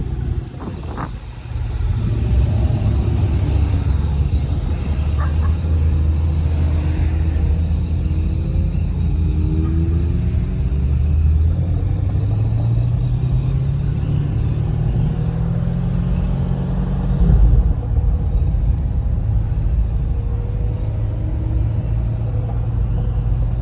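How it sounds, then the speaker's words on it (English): Steady, loud engine rumble from cars passing on a busy road at a festive outing, heard from inside a new C8 Corvette during break-in, with pitch rising and falling as vehicles go by. "Everyone's just out, enjoying all the cars driving by."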